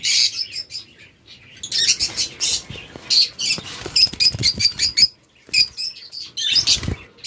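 Lovebirds sitting in nesting boxes chirp and tweet in rapid, overlapping bursts, close and busy, with brief pauses between flurries.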